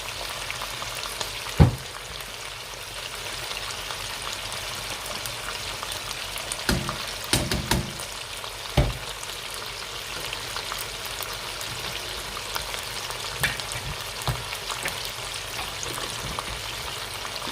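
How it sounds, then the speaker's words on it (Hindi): Chicken frying with garlic and ginger paste in a karahi makes an even, hissing sizzle at close range, broken by a few sharp knocks and scrapes of a utensil against the pan, with no voices. "इसे मिक्स कर लेता हूँ और तकरीबन 4 मिनट के लिए मैं अच्छी तरीके से इसे भून लेता हूँ"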